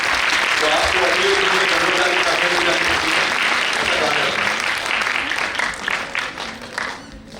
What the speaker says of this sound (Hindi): यदि आप जोर शोर से यहाँ तालियां बजाते हैं